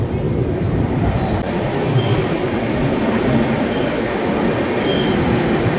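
Rajdhani Express rolling through Mathura Junction station, a steady loud rumble of wheels and carriages that holds continuously, with faint higher rail noise and no talk.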